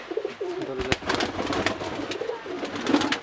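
A male domestic pigeon coos in low, rolling calls, a few close murmured phrases repeated over a soft background hum.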